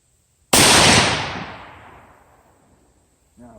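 A single sharp rifle shot from a Howa rifle during barrel break-in at a range, one loud close crack followed by a long decaying echo that fades over about two seconds.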